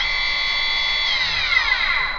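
A Chinese 2–3 kW CNC spindle runs at 6,000 RPM with a steady high-pitched whine, its tone rising and wavering toward the end; loud and close, no talking.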